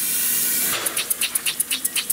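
Oscillating steam engine running on low-pressure steam: a steady hiss gives way to rapid, regular puffing exhaust chuffs, about five per second, close and clear.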